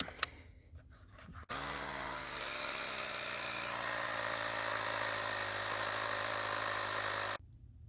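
A portable tire inflator runs steadily while pumping up a vehicle tire, a loud continuous motor drone with rhythmic pulsing that starts abruptly after a few light clicks and cuts off sharply near the end.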